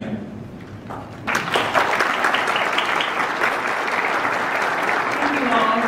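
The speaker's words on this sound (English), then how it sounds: "So students, would you do a round of applause for your family?" Students at a Washburn University first-year welcome event break into loud, sustained applause for their families, starting suddenly after a moment of quieter room sound with a voice, and filling the room through the end.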